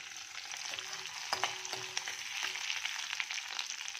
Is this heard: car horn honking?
no